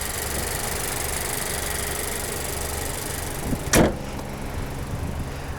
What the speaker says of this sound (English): There's your intake.